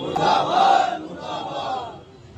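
A protest crowd of the Shia Ulema Board in Kanpur chants slogans, raised voices rising in a short shouted burst, then a second, quieter swell, at moderate distance.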